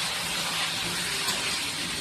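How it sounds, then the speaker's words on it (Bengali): A lid lifted off a pot of braising mutton releases a steady, even hiss of steam that fills the whole moment with no voices. "এখন মা ঢাকনাটা খুলে দিচ্ছে, যেহেতু মাংসটা একটু আমাদের কষানো হয়ে গেছে।"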